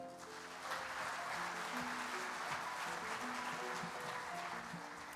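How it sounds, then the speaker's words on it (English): An audience at the Kansas FFA Convention applauds scholarship recipients, a broad, even wash of clapping with a low hum underneath, fairly distant and sustained. "Please join me in giving these Kansas FFA Alumni Scholarship recipients a round of applause"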